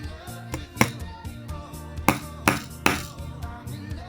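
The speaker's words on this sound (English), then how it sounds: "Notice how I'm nailing." Close, sharp hammer strikes drive a nail into a board for a string art project, several uneven knocks spaced apart with small taps between them, no voices.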